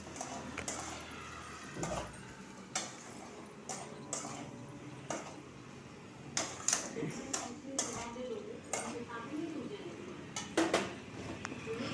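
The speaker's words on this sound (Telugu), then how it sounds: "ఉప్పు వేసి మళ్ళీ కలపాలి బాగా." Metal spoon scraping and clinking against a pan while salted soybean and potato curry is stirred, a series of irregular clattering knocks over a steady low background, with no talking.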